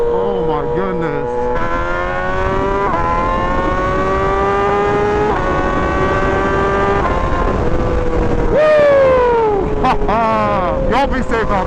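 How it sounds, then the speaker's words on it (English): A loud engine exhaust revs repeatedly, pitch climbing and falling in sustained pulls, close and dominating. "Just listen to that exhaust note, man."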